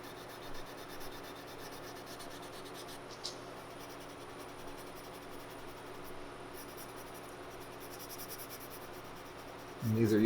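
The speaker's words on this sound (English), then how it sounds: "But you can take a corner, some Scotch-Brite, and highlight areas." A corner of Scotch-Brite pad rubs along a wooden rifle stock being patinated with bone black pigment, a faint steady scratchy scrubbing that runs on at low level, close by, with a louder thump at the end.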